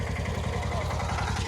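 A tractor drives past on a village road, its engine a steady low throbbing chug with rhythmic pulses, close and fairly loud throughout.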